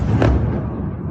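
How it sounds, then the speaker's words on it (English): Two sharp, heavy missile explosions a second apart, each followed by a deep rumbling roar that lingers and fades, distant but powerful. "Massive explosion."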